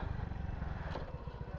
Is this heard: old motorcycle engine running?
yes